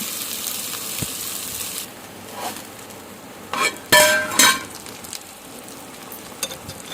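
Vegetable curry made with bandi gurija fries in a pan with a steady close sizzle, broken by a few metallic clinks and scrapes of a utensil against the pan.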